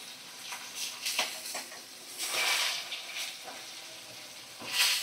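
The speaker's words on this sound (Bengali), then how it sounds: "আর এক সাইডটা ভালো করে ভাজা করে নিচ্ছি" Pieces of fish fry in a wok in hot oil, giving a steady close sizzle with bursts of crackle and hiss that swell and fade over several seconds.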